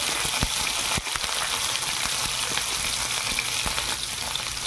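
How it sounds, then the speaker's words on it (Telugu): Onions and garlic sizzle steadily in hot oil while being fried for ridge gourd dal, a continuous close crackle broken by a few sharp pops and stirring clicks. "సో ఇప్పుడు ఆనియన్ బ్రౌన్ కలర్ వచ్చేదాకా వేయించాలి."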